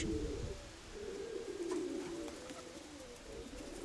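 Soft, low pigeon coos repeat steadily over a constant background hum, several racing pigeons cooing close by without any talking.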